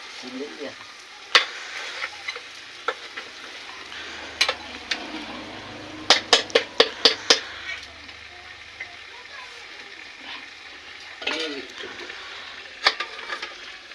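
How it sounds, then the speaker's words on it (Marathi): Goat trotters (paya) frying with masala for biryani, a low sizzle with a quick burst of sharp spatula strikes on the pot midway and scattered scrapes, with a voice talking briefly. "याला थोडं आपण हे होऊ देऊ, मसाल्यासोबत पायाला फ्राय होऊ देऊ थोडं"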